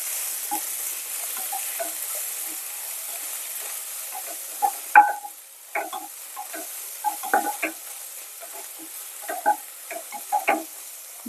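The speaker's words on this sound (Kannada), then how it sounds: "ಇವಾಗ ಇದಕ್ಕೆ ಸಣ್ಣಗೆ ಹೆಚ್ಕೊಂಡಿರೋಂಥ ಮೆಂತ್ಯ ಸೊಪ್ಪನ್ನು ಹಾಕೋತಾ ಇದ್ದೀನಿ. ಇದನ್ನು ಚೆನ್ನಾಗಿ ಬಾಡಿಸ್ಕೋಬೇಕು ಎಣ್ಣೆಯಲ್ಲಿ" Finely chopped fenugreek leaves sautéing in oil for a methi matar malai curry, a quiet sizzle broken by frequent close clinks and scrapes of a spatula stirring, with no speech.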